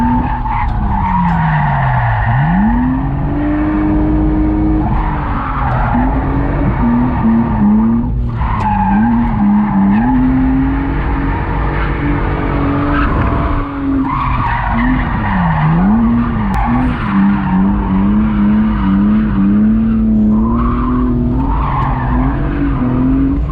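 A drift car skids through laps at a drift event, tires squealing in long, wavering screeches over a loud, steady engine roar, close and continuous with no talk.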